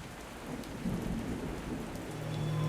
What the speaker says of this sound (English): The echo of thunder dies down,